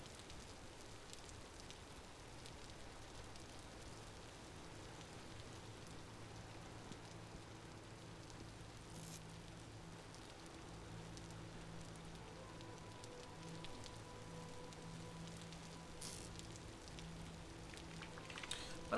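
Steady, dense patter of rain falling in the survival crafting game Vintage Story, a continuous even hiss lasting throughout with faint low tones underneath and no talk.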